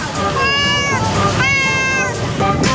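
Stray cats near Gondangdia Station in Central Jakarta give two long, loud, drawn-out meows, then a shorter one, over a steady bed of outdoor background noise.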